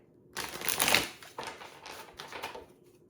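Quick riffling bursts of tarot cards being shuffled, a louder flurry first followed by several softer shuffles, close up with no talking.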